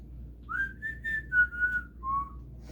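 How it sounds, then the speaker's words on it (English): A person whistles a short melodic phrase of about five clear, sliding notes, close and alone over faint background hum. "Just felt like whistling there"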